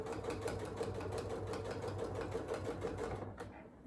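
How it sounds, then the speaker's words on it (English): A sewing machine stitching down the edge of a quilt, its rapid even whirring rhythm running steadily and close, then stopping just before the end. "Now I'll just sew down to the next corner"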